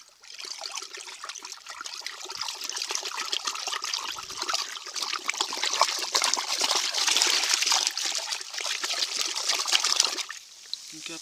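Fermenting horsetail manure liquid being stirred, bubbling as it moves: a continuous close-up sloshing and trickling that swells slightly toward the end before stopping abruptly.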